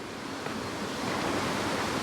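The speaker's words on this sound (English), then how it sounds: "I can hear waterfall noises" Steady broadband rush of a waterfall flowing beside a boggy roadside near Loch Chon, swollen by high water, a continuous even roar with no gaps and no voices.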